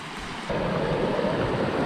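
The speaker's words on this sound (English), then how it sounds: "Okay, we've got a creek running through here." A creek runs with plenty of water, a steady broadband rush that switches on abruptly after a brief quieter start and then holds at an even, continuous level, close to the microphone.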